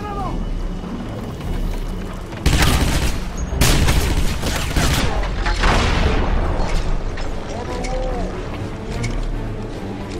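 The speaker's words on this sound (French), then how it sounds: "On va tirer dans le mur, ça va pas mal avancer." Heavy bursts of gunfire hammer a wall in the Wolfenstein video game, loud blasts near 2.5 and 3.7 seconds followed by rumbling debris and action noise throughout, with no talking.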